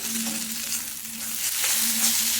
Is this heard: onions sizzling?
yes